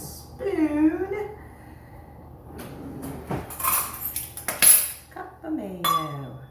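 A spoon clinks and scrapes in a container while scooping a cup of mayonnaise for homemade coleslaw. The light, scattered knocks sit under steady nearby talking.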